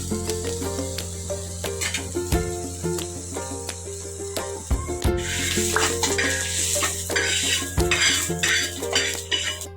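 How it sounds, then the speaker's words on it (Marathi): Onion roasts in a pan for a chicken gravy, stirred with a utensil that clinks and scrapes against the metal at a steady pace. A faint sizzle and a constant low hum sit underneath. "आता आपण कांदा भाजून घेऊया."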